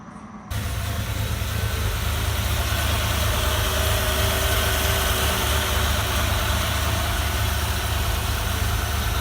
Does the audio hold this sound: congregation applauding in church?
no